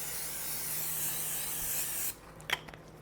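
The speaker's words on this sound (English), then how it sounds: "I have out my casserole dish and we're now going to spray it." Cooking spray hisses steadily onto a casserole dish for about two seconds, close and fairly quiet, then stops and a few light clinks follow.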